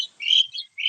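Indian myna calling outdoors, a quick run of bright, shrill chirps in three short bursts, fairly near and clear with no talk over it.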